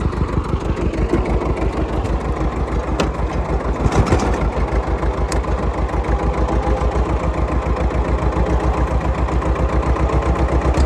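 A tractor engine runs steadily while reversing during pipeline work, a loud, close, low rhythmic chugging that stays constant throughout.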